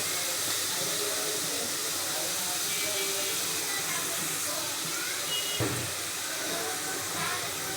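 Spice paste for a pomfret fish curry frying in hot oil, a steady, close hiss and sizzle that holds evenly throughout with only small changes in level.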